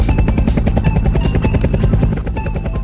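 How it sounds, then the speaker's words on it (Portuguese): A helicopter hovers close by while a person is hoisted up into it, its rotor beating in a loud, rapid, steady thud. "Ele foi puxado de lá do chão para o alto, dentro do helicóptero."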